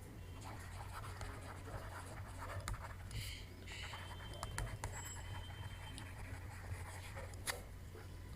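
A pen scratches across paper as notes are handwritten during a biology lecture, a faint, close, intermittent scratching with a few sharp taps over low background hum.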